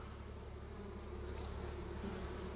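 Steady, dense buzzing of many honey bees close by at a hive, a continuous droning hum with no pauses.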